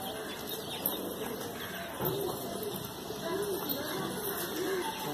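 A large old-breed kaldumme pigeon coos softly in repeated low rounded calls, with faint wing rustling, close by under steady background noise and a man's speech.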